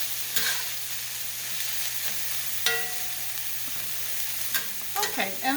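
Onions sizzle steadily as they fry in a pan while corned beef hash is made, with a few sharp scrapes and clicks of stirring, a low steady hum underneath, and a burst of clattering utensil taps near the end.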